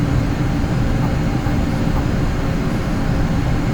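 A Learjet 45 business jet's engines roar steadily on a takeoff run from the cockpit, a dense, constant broadband rumble with no pauses.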